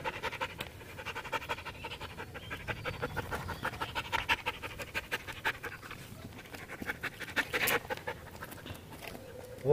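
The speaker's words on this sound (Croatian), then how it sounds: "u onom dvorištu imamo jednog psa koji mu malo privlači pažnju" Close, rhythmic dog panting in a yard, rapid breaths repeating throughout at moderate volume, with occasional scratchy rustles.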